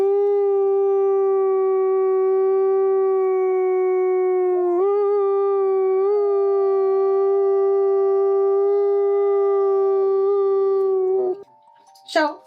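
A long, sustained canine-style howl holds steady for about eleven seconds, with wavering pitch shifts partway through, then ends in a brief rising yelp.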